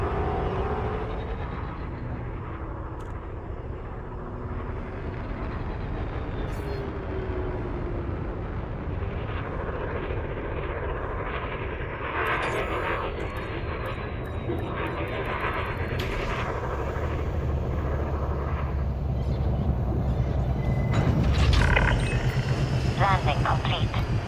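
A spaceship in Elite Dangerous lowers its landing gear and settles onto a carrier pad: a steady low engine rumble and hum that grows toward the end, with mechanical whooshes and clanks and a ship's computer voice speaking over it.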